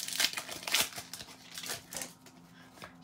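Plastic blister pack of Pokemon Ultra Prism cards crinkled and handled up close, with a string of soft crackling bursts and rustles that fade toward the end.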